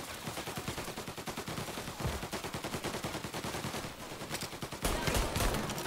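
Sustained rapid gunfire in the video game Mafia: Definitive Edition, a dense stream of loud repeated shots with a brief pause before a louder burst near the end, no speech over it.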